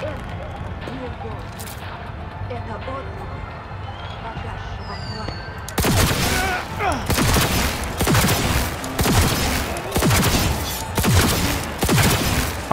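Rapid bursts of gunfire in the video game Cyberpunk 2077 break out after a steady background hum, with repeated sharp shots continuing loudly to the end while voices talk over them.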